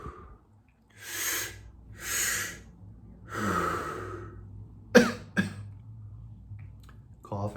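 Several harsh breathy exhalations and a couple of short sharp coughs during a guided breathwork session, close and fairly loud, separated by quiet pauses.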